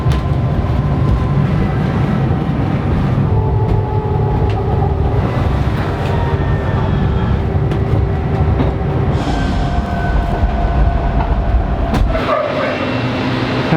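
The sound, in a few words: Heathrow Terminal 5 pod vehicle driving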